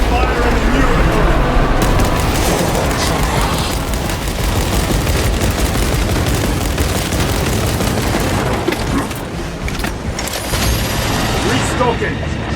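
Heavy gunfire pours into the Neurothrope in Warhammer 40,000 Space Marine 2, dense bursts and booms rattling continuously over loud battle noise while voices shout over the fray.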